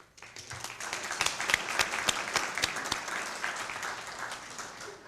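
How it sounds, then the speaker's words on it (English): An audience claps steadily at a city employee service awards ceremony, a dense burst of hand claps that swells and then holds at a moderate level, with no voices over it. "So let's give another round of applause to"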